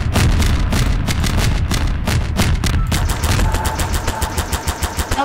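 Sustained rapid gunfire in Garry's Mod, bursts of automatic shots blending into a dense rattle, followed by a steadier evenly spaced volley.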